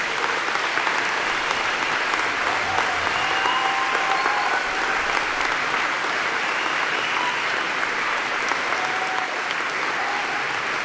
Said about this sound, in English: could I just ask them to stand and we give them a special applause?